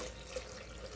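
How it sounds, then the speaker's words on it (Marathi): Water pours steadily into a cooking pot of mutton khichdi, a faint, continuous splashing trickle with no talking. "पाणी टाकते,"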